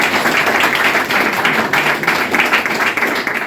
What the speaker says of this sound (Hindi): उनके लिए भी एक बार तालियां होनी चाहिए